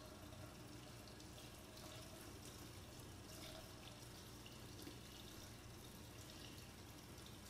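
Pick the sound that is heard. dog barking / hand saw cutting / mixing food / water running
water running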